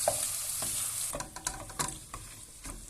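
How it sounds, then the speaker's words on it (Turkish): Potatoes sautéing in a pan as the base for a vegetable soup, a steady close sizzle broken by repeated scraping and clattering stirs, no talking. "Evet arkadaşlar 1 dakika kadar patatesleri kavurdum"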